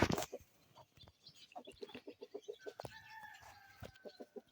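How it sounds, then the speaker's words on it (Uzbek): Several chickens cluck in quick, bouncy bursts as they settle into their coops, with a sharp squawk at the start and a rooster-like call rising partway through, close by. "Mana tovuqlarimiz ham kataklariga kirdi."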